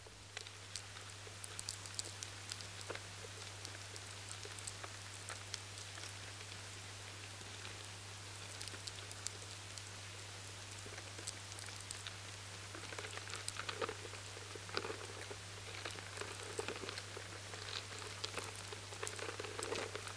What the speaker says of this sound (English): As they move about, the adults scratch the grains with their sharp claws.